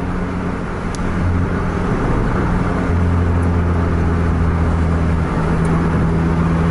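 Mercedes car pulling away briskly in congested traffic, a steady close engine drone with low harmonic lines that shift in pitch as it accelerates, with the hum of surrounding road traffic.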